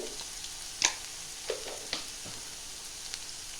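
Katla fish masala is sautéed in a pan, with a quiet, steady sizzle broken by a few sharp scraping strokes of the spatula, close by and without talk.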